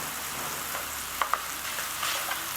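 Spices, lemon juice, methi and pre-cooked dal cooking on low gas in a pan for veg dhansak, giving a steady close sizzle and frying hiss with a few faint clicks of stirring.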